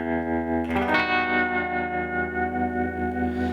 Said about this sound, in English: I'll turn on the regular kind of tremolo setting that you get in an amp. Crank the reverb.